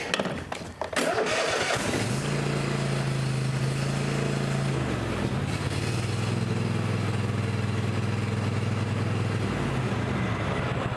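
Kohler 7000 Series engine on a Cub Cadet XT1 riding mower, choked and hard starting on compression: a brief starter crank, then the engine catches and settles into a steady loud idle with a slight pitch shift.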